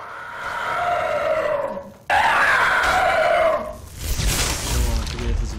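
A skeleton enemy in Skyrim lets out loud, high-pitched screeches, two long wailing cries back to back, the second starting abruptly, followed by a rough noisy burst.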